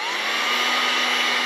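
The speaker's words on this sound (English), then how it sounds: "This is a heat gun, so it does get a lot hotter than a blow dryer" A handheld heat gun blows hot air in a steady, loud whooshing drone with a faint whine, running continuously without pause while used to apply heat to a fabric patch.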